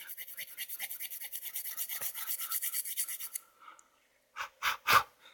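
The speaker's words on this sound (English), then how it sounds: "sometimes you got to use the flat side of the eraser to get right on the edge." A pencil eraser rubs the gold contacts of a Nintendo game cartridge in about twenty quick, close, rhythmic scratchy strokes, then pauses before three slower, heavier strokes.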